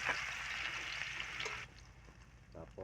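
Ginger sautéing in a pan for chicken with upo gives a soft, steady close sizzle for about a second and a half, then drops to a fainter hiss with a brief stir near the end.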